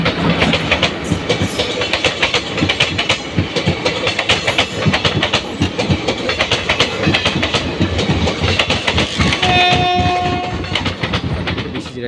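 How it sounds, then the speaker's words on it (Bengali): Train rumbling through a small station on the Howrah division, loud rhythmic clickety-clack of wheels over rail joints, with a sustained horn sounding near the end. "কোনো ট্রেন আসছে নাকি?"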